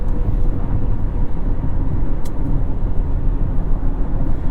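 Steady road and engine roar inside a 2023 Honda CR-V Hybrid Sport Touring cruising on the highway at about 70 mph, broadband tire and wind rumble continuous and fairly loud, with a faint brief tick midway.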